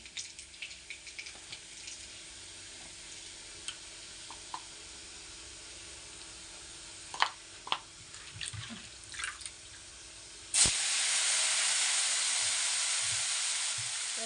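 Curry leaves hit hot oil and burst into a loud, sustained sizzle after a stretch of quiet clinks and scraping, the hiss then holding steady to the end.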